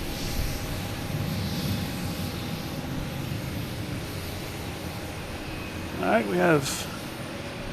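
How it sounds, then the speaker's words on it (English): A Cape Air airplane takes off at Boston Logan Airport, its engine a steady distant rumbling drone that holds throughout, with someone briefly talking over it near the end. "we have a Cape Air taking off, heading to Provincetown, I believe"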